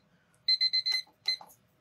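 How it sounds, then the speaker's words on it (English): A timer alarm beeps in a quick series of four bright, even electronic tones, then breaks off and gives a shorter burst, loud and close in a quiet room with no talking. "Oh, timer."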